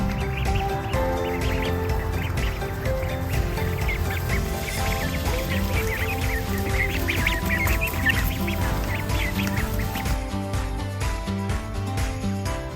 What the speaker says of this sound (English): here are the ducks just quacking away.